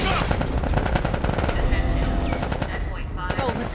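Dense automatic gunfire from The Last of Us Part 1 video game, rapid overlapping shots and bursts running loud and continuous throughout, with voices shouting over the battle.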